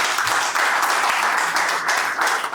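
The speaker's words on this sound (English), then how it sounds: "So let's give him a round of applause." Loud, close audience applause at an official launch event for senior artist Professor Awang Damit, a thick continuous clapping that stays strong for the whole stretch.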